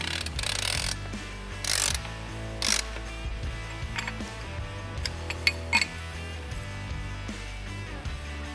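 A spring compressor tool squeezes a Hyperco UTV shock spring assembly with a new slider and main spring, making a series of metallic ratcheting clicks and clinks in several bursts, close and fairly clear over a low background hum.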